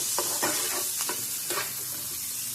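Chopped ginger, garlic and green chilies being stirred as they fry in a pan, a loud, steady sizzle with several scraping strokes of the spatula up close, no voices.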